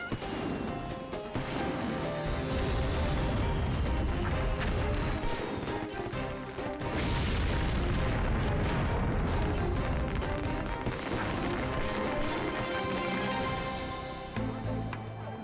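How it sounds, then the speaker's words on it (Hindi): Continuous loud barrage of explosive bangs and crackling bursts, dense and overlapping, as fireworks go off all around and a fire spreads through firecracker shops. "हर तरफ आतिशबाजी छूट रही है"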